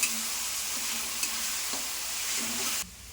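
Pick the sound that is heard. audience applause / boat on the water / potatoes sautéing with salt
potatoes sautéing with salt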